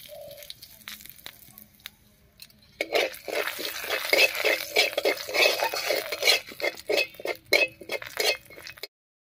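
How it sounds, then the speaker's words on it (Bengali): Whole cumin seeds and chopped onion hit hot oil for a fish curry with Malabar spinach, starting with a few clinks before a loud, steady sizzle bursts in and crackles on, broken by stirring taps, then cuts off. "এই তেলের মধ্যেই ফোড়ন দেব, আর ফোড়ন দেব গোটা জিরা আর পেঁয়াজ কুচি দিয়ে"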